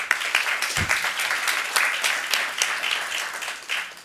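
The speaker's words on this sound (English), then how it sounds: "You got to clap for that." Applause from the audience at a Burbank city council meeting, a steady dense clatter of many hands with a few louder claps and a low thump, fairly loud and continuous throughout.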